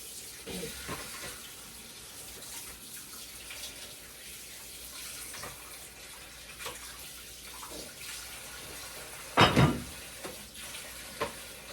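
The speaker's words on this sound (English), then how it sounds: "Now these are all washed and clean." Pork neck bones rinsed under a running kitchen tap, a steady splashing water stream with a loud clatter near the end and a few soft knocks, no talk.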